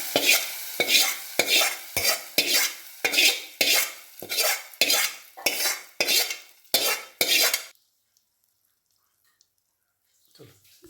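A spoon stirs amaranth greens kootu in a pot with about a dozen rhythmic, close, wet scraping strokes at an even pace. Then they stop abruptly, leaving near silence with only a faint sound at the very end.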